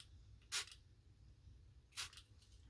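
Two short hissing bursts of makeup setting spray, a Makeup Forever mist sprayed onto the face, about a second and a half apart, close and fairly loud against a quiet background.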